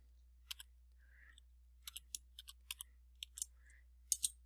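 A password is typed on a computer keyboard as a quiet string of sharp, irregular key clicks in near silence, with faint rustles between the keystrokes.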